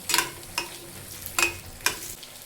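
Honagone greens are stirred and sautéed in a hot pan, a soft background sizzle broken by four scraping strokes of a spatula at a slow, uneven pace, close up.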